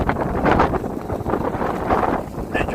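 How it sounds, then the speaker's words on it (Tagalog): Strong coastal wind buffets the microphone at Kapurpurawan rock formation in Ilocos Norte, a loud, continuous roar that surges and eases in gusts. "Medyo mahangin pala talaga."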